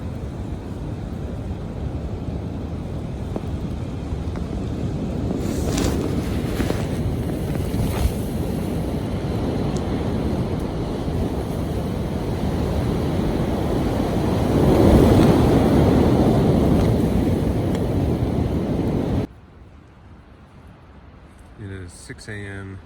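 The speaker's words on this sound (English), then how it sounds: "Howling winds outside." Howling blizzard wind on Mount Washington in winter, with gusts over 100 mph, roars loud and steady outside a shelter, swelling into a stronger gust before cutting off abruptly near the end.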